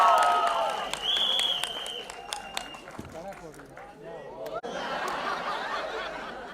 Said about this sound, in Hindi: जब तक ट्रेलर शुरू होगा तब तक ताली बजाता रहो